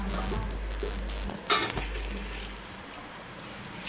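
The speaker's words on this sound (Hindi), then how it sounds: "अब हम चिकन डाल रहे हैं। अब हम अच्छे से इसे मिक्स करेंगे" Chicken pieces go into a pan of Amritsari chicken gravy and get stirred, giving a soft sizzle, a sharp spoon-against-pot clink partway through, then quiet simmering.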